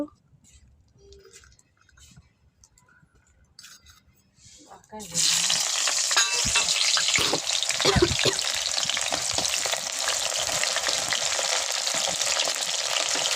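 Rice fries in a hot pan for khichuri, a loud continuous sizzle bursting in after a few quiet seconds and carrying on with occasional stirring scrapes underneath.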